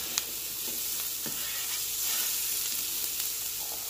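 Chopped leftover baked potatoes, already cooked, browning in a hot pan for fried breakfast potatoes: a dense, even sizzle runs the whole time, broken by a few sharp crackles and stirring scrapes, with nobody speaking.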